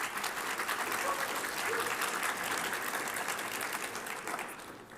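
An audience at a 3D vision conference keynote claps steadily for about five seconds, a dense even patter of many hands that fades slightly at the end.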